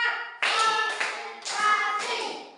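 A school class claps hands together in counted bursts, four loud group claps in quick succession, close and sharp with slight ringing in the room.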